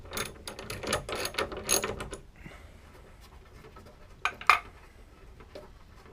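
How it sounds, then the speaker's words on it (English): Ratchet wrench with a 13mm socket backing out bolts on a 1995 VW Golf MK3 hood strut: a dense run of quick clicking for about two seconds, then quiet with a couple of brief clicks later, close and alone. "now we'll put this 13mm socket on"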